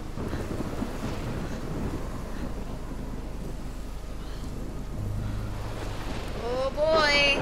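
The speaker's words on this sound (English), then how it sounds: "Oh boy, here's that storm." Video game storm with thunder: a low, steady rumble of wind, rain and thunder that rises toward the end, with a whooshing swell in the final second.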